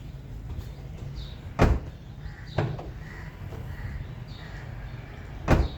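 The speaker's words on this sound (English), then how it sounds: "Reconnect the negative term of the battery and test the new latch." A Kia Sportage liftgate latch being tested clunks sharply three times over a steady background hum, each latch thud loud and close with brief mechanical whirring in between.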